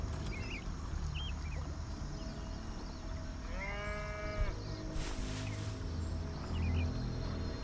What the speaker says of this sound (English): cow right there